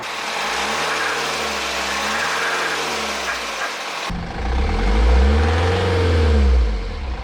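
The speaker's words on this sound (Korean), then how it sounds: "시운전 한번 하기 전에 엔진 소리 다시 한번 들어볼게요" A BMW X3 xDrive 20d diesel engine runs steadily at idle, then gets louder and deeper with a heavy low rumble partway through, near and continuous.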